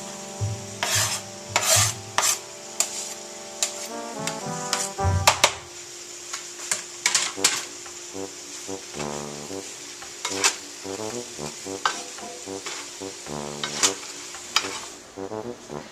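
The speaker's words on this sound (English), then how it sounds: "I'm just going to give my shiitakes a rough chop. Add them to the pan as well." Roughly chopped shiitake mushrooms are stirred and fried in a pan for a vegan marsala, with loud repeated scraping strokes, clinking against the pan and a steady sizzle underneath, the strokes coming in quick uneven bursts.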